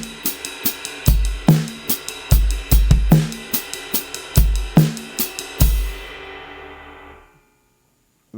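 A second variation of a 16th-note drum kit groove with an ostinato, tight kick and snare accents under busy cymbals, played close and loud before ringing out into silence.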